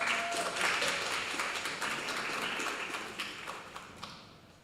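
An audience at an award ceremony claps to welcome a speaker, a soft, distant patter of applause that fades away over a few seconds.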